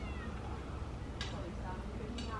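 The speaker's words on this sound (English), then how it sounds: "There's a kitty in the tree." A small kitten meows from high up in a tree, its cry faint and distant beneath a steady outdoor rumble.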